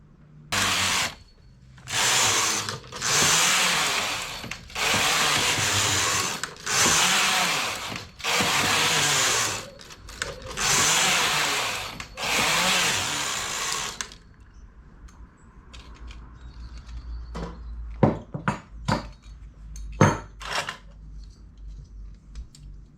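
A domestic knitting machine runs while a sleeveless strappy dress is knitted: a long series of loud, rhythmic carriage sweeps, each a few seconds long with short gaps, then quieter clicks and clacks.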